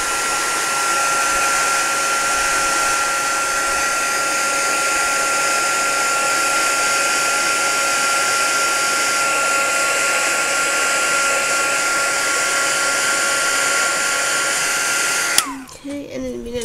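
A heat tool blows steadily and loudly for about fifteen seconds, drying foiling adhesive on a handmade card, then cuts off abruptly and leaves faint handling noise.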